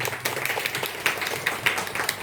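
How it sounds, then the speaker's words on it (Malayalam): Applause for Neethu at an honoring ceremony: a steady patter of many hands clapping together, moderately loud and sustained throughout without talk. "നീതുവിന് വലിയൊരു കൈയടി കൊടുക്കുക"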